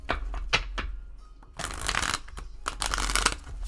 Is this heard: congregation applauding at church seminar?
no